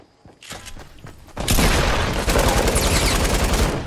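Scattered gunshots in Fortnite Battle Royale build into loud, sustained automatic fire after a brief quieter start, with rapid overlapping bursts continuing to the end.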